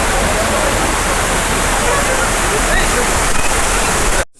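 Waterfall in a forest near Longding, Arunachal Pradesh, roaring as a steady, loud broadband rush that continues unbroken, then cuts off abruptly at the end.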